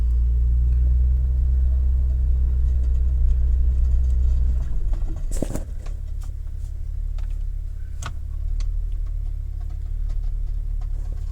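A 2000 Honda car with a gear-selector fault has its engine revved in gear: a loud, close, low rumble that drops after a few seconds, followed by a sharp clunk and light ticking under the idle.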